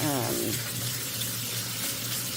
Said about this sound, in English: And I'm just going to give them a good rinse.